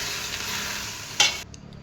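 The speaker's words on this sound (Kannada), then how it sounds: "ಸ್ವಲ್ಪ ಸಾಲ್ಟ್, ಅದಕ್ಕೆ ಎಷ್ಟು ಬೇಕೋ ಅಷ್ಟು ಸಾಲ್ಟ್ ಹಾಕಿ ಮಿಕ್ಸ್ ಮಾಡಿ" Salt is stirred into a frying mixture in a pan while making mente kadubu, a steady close hiss of sizzling with a brief scrape of the spoon before it cuts off, no voices.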